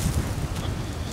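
Steady wind rushes and buffets the microphone at a winter beach in Oklahoma, a low rumbling roar with no voices.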